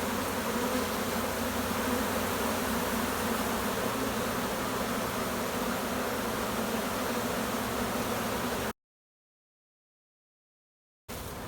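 A queenless honeybee colony hums with a loud, steady, dense buzz for most of the clip, then cuts to silence before the buzzing briefly returns.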